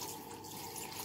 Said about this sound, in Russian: Заливаем водичкой.